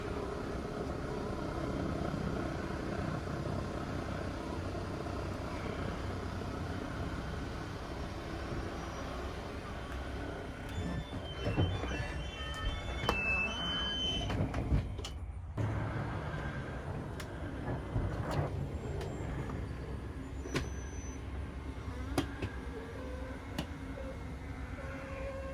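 An HWH 325 hydraulic leveling system pump runs after its shuttle valve is replaced, giving a steady motor drone with some higher whine that holds for the whole stretch, close and moderately loud, with clicks and small knocks near the middle.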